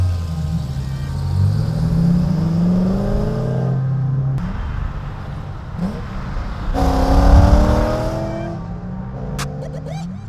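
A Chevrolet C6 Corvette fitted with new headers roars through loud, close revs, the engine swelling and dropping in pitch across several throttle blips before settling back.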